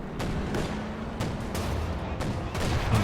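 Flak panzer fire hammers an M10 tank in the strategy game Company of Heroes 2: a dense series of sharp, loud cannon bursts repeating at an uneven rhythm with no pause.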